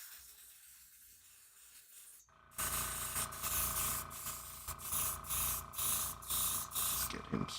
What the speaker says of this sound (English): Let's get him sprayed.